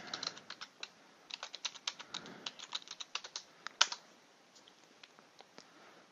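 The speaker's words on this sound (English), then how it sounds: "type in the username" Username typed on a computer keyboard, a quick run of close, light key clicks in irregular bursts that slow and thin out toward the end, no talk.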